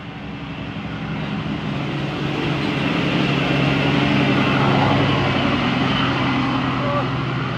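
A vehicle rumbles past close by, a steady broad engine roar swelling and holding loud, with a voice speaking faintly underneath.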